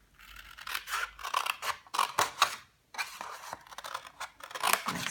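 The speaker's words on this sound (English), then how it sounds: "you take your snips and I'm going to cut up these lines here" Paper snips cutting cardstock along lines for a Stampin' Up gift box: a quick run of close, crisp snips in uneven clusters with short pauses, no talking.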